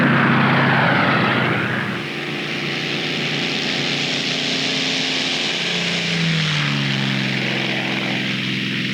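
A P-51 Mustang propeller fighter, period WWII aircraft, drones loudly and steadily throughout with a broad engine roar and shifting propeller tones.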